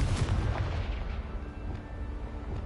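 A deep, rumbling blast from the Confringo fire spell in Hogwarts Legacy booms loudly, followed by a low, sustained roll of explosive noise that fades slightly.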